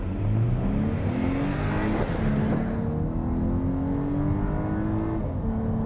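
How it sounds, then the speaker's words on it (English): Full-throttle acceleration of a 2024 Volkswagen Atlas, its engine droning steadily and rising in pitch as it pulls hard, heard from inside the cabin with a continuous loud road and wind roar. "I'm just gonna put my foot to the ground and see how this does and see how it sounds"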